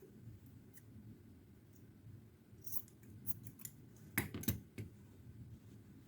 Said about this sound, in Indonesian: ini tinggal digunting